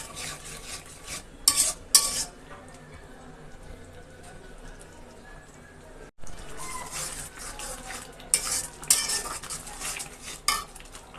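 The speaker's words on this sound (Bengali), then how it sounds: "মশলাটা কষানো হয়ে গেছে" Thick masala paste stirred and fried in a pan for a meat dish, with a spoon scraping and clinking against the metal in bursts over a low, steady sizzle, close and fairly quiet, with a brief pause partway through.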